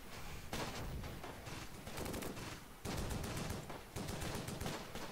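Close Combat game battle with MG42 machine gun and rifle fire: dense rapid bursts of gunfire come in repeated volleys, some fast and rattling, others sharper cracks, steady and loud with no voices.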